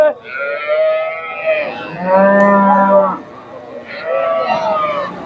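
Several dairy cows moo loudly and close by at a cattle market in Bogura, Bangladesh, three long drawn-out lowing calls in succession, with a faint voice in the background.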